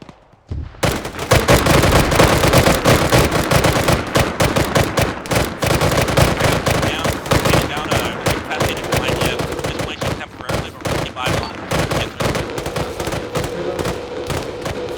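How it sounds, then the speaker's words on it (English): Sustained suppressing gunfire in a military shooter video game, rapid automatic bursts and overlapping shots firing nearly nonstop for the whole stretch, loud and dense, with faint voices occasionally beneath. "put suppressing fire on that hill southwest while Keegan C moves back"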